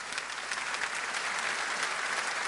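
Audience at a French-language Christian gathering applauding a guest named André, a steady, dense wash of clapping filling the room for the whole stretch with no voices over it.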